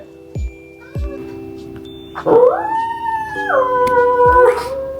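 A dog howls in a long, rising and wavering tone, preceded by a couple of short yips, close and fairly loud.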